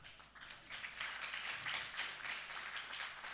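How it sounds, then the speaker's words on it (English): Steady crowd applause and hand clapping at a formal community event presenting an orphans and vulnerable children census report, a dense, even patter of many hands sustained throughout at moderate loudness. "With a bigger hand clap,"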